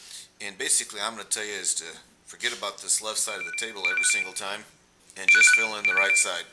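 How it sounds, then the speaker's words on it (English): A telephone rings in two brief electronic bursts beneath a man's steady, continuous speech, the ring staying soft and partly masked by his voice. "Some of you may have heard that. That was a phone call from the president I had to take"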